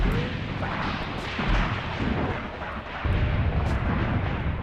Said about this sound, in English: That artillery is actually in our favor, as you can see there, popping behind the German lines.